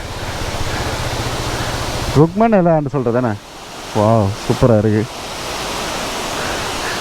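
Water pours steadily down a waterfall at Palampitiya viewpoint in Sri Lanka, a constant broadband rush that runs through the whole clip while people talk briefly in the foreground.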